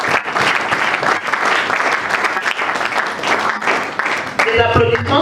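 A crowd applauds with dense, sustained clapping that fills the room, and a voice begins speaking over it near the end.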